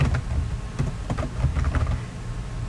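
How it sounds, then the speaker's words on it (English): Typing on a computer keyboard to enter a name into a PDF, heard as a short run of soft, close key clicks over a low background hum. "So I'll click right there and type my name."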